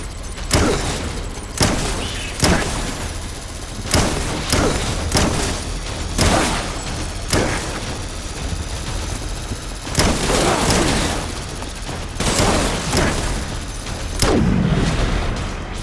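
Heavy gunfire and booming explosions from the video game Death Stranding crash one after another, loud and dense, with sharp repeated blasts and a constant low rumble filling the whole stretch.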